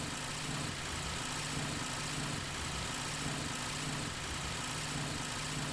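Vehicle engine in a video game, a steady low vibrating hum with a faint rhythmic throb, constant and unbroken throughout with no voices.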